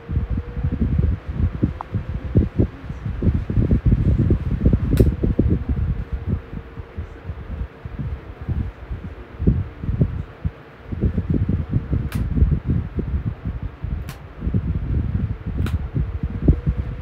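A powerful electric fan runs close by, a steady blowing airflow with gusty, rustling buffeting throughout, and a few faint clicks.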